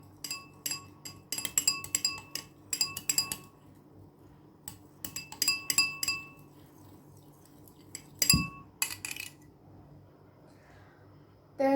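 A spoon stirs foundation and cold water in a glass, making rapid bright clinks in irregular bursts with short pauses, close and clear, with no talking.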